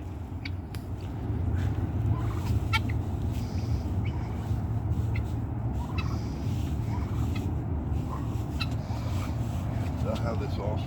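Guinea fowl calling in a steady, rough, repeated chatter close by, joined by sharper cries and a constant low rumble of traffic or an engine; people talk now and then.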